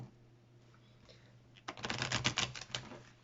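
Tarot cards are shuffled close up, a quiet stretch of faint rustling and then a burst of rapid, crisp riffling clicks.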